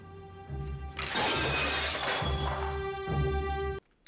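A tray smashes against a wall in a scene from the TV show Lost, producing a loud, sustained shattering crash over low droning music that ends abruptly.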